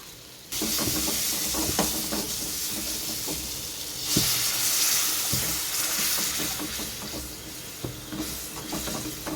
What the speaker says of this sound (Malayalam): ഇനി നമുക്ക് ഇതിലേക്ക് ആവശ്യമായിട്ടുള്ള വെള്ളം ഒഴിച്ചു കൊടുക്കാം